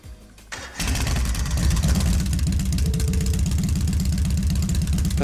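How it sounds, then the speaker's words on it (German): A motorcycle engine in the video game Trails of Cold Steel cranks briefly, then catches and settles into a loud, steady, throbbing idle that continues to the end. "Okay, ich schmeiß mal den Motor an."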